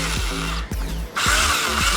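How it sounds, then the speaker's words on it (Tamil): An electric drill fitted with a mixer attachment whirs loudly and steadily for about two seconds, its motor pitch rising and briefly dipping midway, with no talking. "ட்ரில்லரில் மிக்சர் ரெடி ஆகிடுச்சு"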